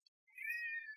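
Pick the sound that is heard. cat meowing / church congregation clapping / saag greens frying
cat meowing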